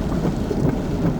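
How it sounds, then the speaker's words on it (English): Hurricane Charley's storm winds and rain coming ashore roar as a steady, dense, low rumble with gusting wash throughout, loud and unbroken. "the storm was starting to come on shore"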